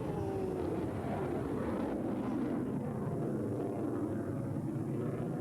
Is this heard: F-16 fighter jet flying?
yes